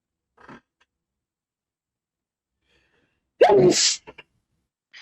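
A single sharp, loud sneeze bursts out of near silence, followed by a couple of faint short sniffs or breaths.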